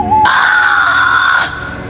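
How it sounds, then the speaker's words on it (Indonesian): A piercing, sustained scream from a boy in the night within a horror tale, loud and close, held for over a second before cutting off into a low, lingering tail. "suara jeritan Dito memecah malam seperti petir"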